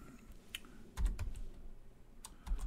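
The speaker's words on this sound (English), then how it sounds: "I'm using the up and down arrow keys when I'm in the pure terminal to scroll up and down through previous commands" Up and down arrow keys are tapped on a computer keyboard while scrolling through previous commands in a 2.11BSD terminal on a PiDP-11 replica of a PDP-11/70, heard as scattered close clicks, some in quick pairs.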